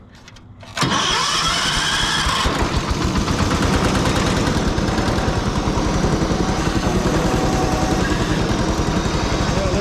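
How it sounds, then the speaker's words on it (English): A Ford LGT 165 garden tractor engine cranks and catches, then runs steadily with a loud, chugging rhythmic putter close by. "I'll start up the tractor"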